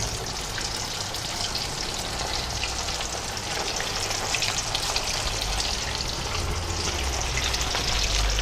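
Chicken sticks deep-fry in hot oil, a continuous dense sizzle and crackle that stays steady and close throughout, with no talking.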